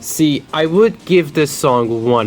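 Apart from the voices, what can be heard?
No everyday noises stand out.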